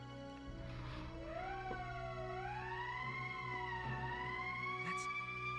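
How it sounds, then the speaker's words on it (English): Emergency siren in the Valkyria Chronicles video game, a faint wailing tone sweeping slowly up and down over several seconds against a low background hum. "That's the emergency siren."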